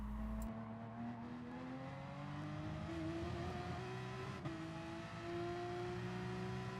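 A race car in Gran Turismo Sport at Circuit de Barcelona-Catalunya accelerates at full throttle, engine pitch climbing steadily in a loud, close, continuous drone with no talk.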